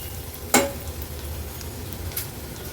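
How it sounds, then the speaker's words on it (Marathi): Turmeric and Agri Koli masala sautéing in hot oil for a traditional Alibaug vegetarian dish, a low steady sizzle with a sharp stir or scrape near the start and a faint clink later. "हळद आणि मसाला तेलावर छान परतून घ्यायचा आहे"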